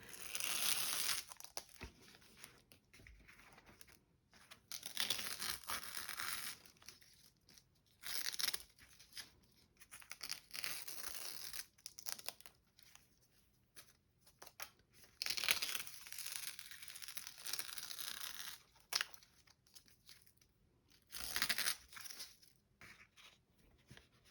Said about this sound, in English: So I'll tear the masking tape off now.